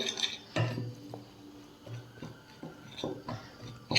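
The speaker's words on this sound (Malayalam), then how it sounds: "ഇനി സൺഫ്ലവർ ഓയിൽ കുറേശ്ശെ ചേർത്തിട്ട് ഇത് നന്നായിട്ട് നമുക്കൊന്ന് മിക്സ് ചെയ്ത് കൊടുക്കാം." Mayonnaise being mixed while sunflower oil is added, heard as light clinks and scraping taps of a utensil against a bowl, spaced irregularly and fairly quiet.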